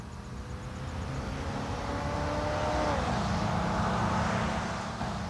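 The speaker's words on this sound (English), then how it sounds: "Now watch as they both accelerate at full throttle down this quarter-mile drag strip." Two 1981 pickups, a Chevrolet and a Ford F-150 with V8 engines, accelerating at full throttle down a quarter-mile drag strip, a steady loud engine roar whose pitch climbs, drops at a shift, then builds again.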